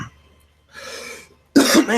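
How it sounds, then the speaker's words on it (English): Someone clears their throat with a couple of short, raspy rough bursts close to the mic, separated by brief pauses. "Man, I can just not clear my throat right now."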